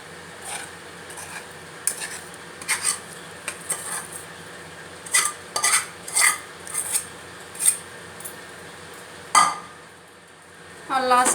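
Sago being mashed together with banana and sugarcane jaggery in a metal utensil, a run of scraping, rubbing strokes and light clinks spread throughout, with a sharper clatter near the end.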